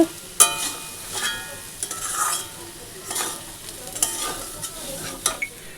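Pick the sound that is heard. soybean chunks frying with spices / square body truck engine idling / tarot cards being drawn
soybean chunks frying with spices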